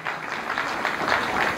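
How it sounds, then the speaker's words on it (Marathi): Applause for a retiring official at a family retirement celebration, a steady dense patter of many hands clapping together at moderate volume for a short burst. "एकदा जोरदार टाळ्या झाल्या पाहिजेत साहेबांसाठी."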